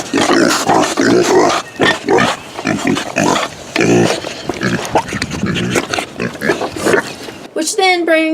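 Pigs grunt and squeal excitedly over their daily milk, loud and close, with a long, steady voice talking over most of it before a final high squeal rings out alone.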